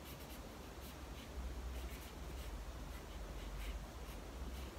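Pen inking over a pencil sketch of a girl with a weapon, a soft continuous scratching and rubbing of nib on paper, close and quiet, with no talking.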